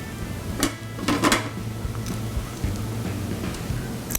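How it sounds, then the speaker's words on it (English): Mixer paddle clicked onto a stand mixer while tropical lime-coconut crisps dough is being made, a few short close metallic clunks and clacks near the start over low steady room hum. "So I'm going to go ahead and attach this to the stand mixer."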